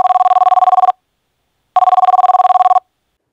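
A telephone rings twice in a loud, electronic trill, each burst about a second long with a pause between, as a call is placed to the crime branch in a crime drama.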